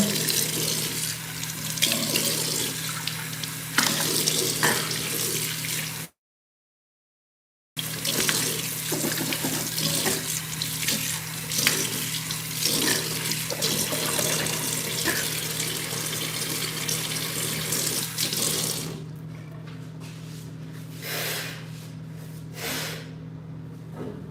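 Cold water running steadily from a tap into a sink in a truck living space, a loud continuous gush that cuts out briefly, then returns and thins into splashing near the end.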